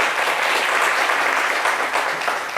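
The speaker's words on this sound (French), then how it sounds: "Là, on a les applaudissements de nos amis de la Dawa." Members of the Dawa dans la rue group clap in a TV studio, a loud, dense and continuous round of applause, close up and steady throughout with no talk over it.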